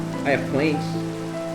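Steady rain falls in the video game Minecraft, a continuous soft hiss under someone briefly speaking and a low sustained tone.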